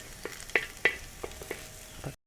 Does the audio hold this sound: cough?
no